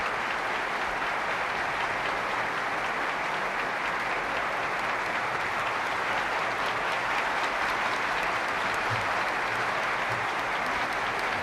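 Standing deputies and senators in the Spanish parliament applaud the King and Queen at the 1978 Constitution ceremony, a sustained, dense roar of clapping from a large chamber that holds steady and loud throughout.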